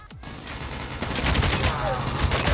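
HVK-30 assault rifle fire in Call of Duty, a rapid, sustained burst of automatic shots cracking close and loud, with a sharp transient at the start and dense rattling continuing through the rest.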